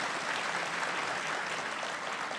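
Audience applause for Anies Baswedan at a geopolitics forum, a dense, steady wash of clapping from a large crowd that holds throughout with no voices standing out.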